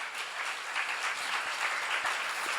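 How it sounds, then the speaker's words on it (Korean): Church congregation applauding during a Korean sermon at a seminar, a steady wash of many hands clapping together, fairly even and moderately loud throughout with no speech over it. "여러분 나도 그래야 되는 것이면 박수로 가주세요."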